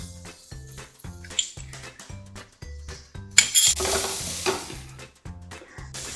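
Onions frying in a pan for a restaurant-style poori masala, with turmeric added, heard as a steady sizzle broken by repeated stirring scrapes and clinks, one louder burst of hiss midway.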